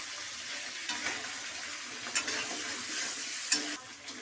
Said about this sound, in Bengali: আমি একটু ভেঙে নিয়ে ভেজে নিই।